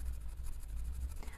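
Soft, rhythmic scratching of a colored pencil shading across a coloring page in repeated short strokes, faint and close.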